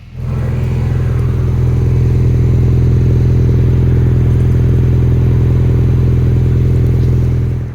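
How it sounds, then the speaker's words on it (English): Ford Ranger fitted with a Roush aftermarket exhaust, a deep steady idling drone with a low rumble, loud and close, rising briefly and then holding even for several seconds with no distinct pops heard and no voices. "with this exhaust, you're also going to get a little pops and gurgles, which is always a cool sound"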